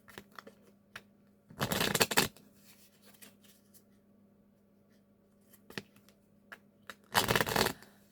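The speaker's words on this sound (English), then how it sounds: "I'm going to get into some of these oracle cards." Oracle cards are shuffled in two loud close bursts of riffling, separated by quiet handling taps and soft shuffles, with no talk.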